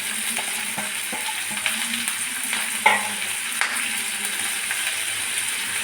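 Washed coriander leaves frying and being stirred in a pan for a coriander-tomato chutney, a continuous close sizzle with occasional scraping clinks of the utensil, no talking.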